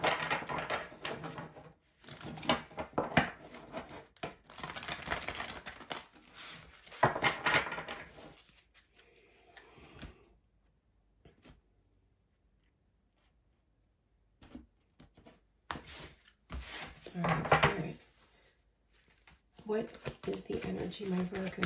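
Oversized tarot cards shuffled by hand in bursts of riffling, slapping and sliding, close and moderately loud, separated by a long quiet pause, with a voice talking intermittently over the card handling.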